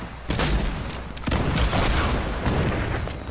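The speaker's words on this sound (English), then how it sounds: "That's a rocket." Rocket explosions in Fortnite, a series of heavy booms with crackling debris and overlapping gunfire, loud and close throughout, without talk.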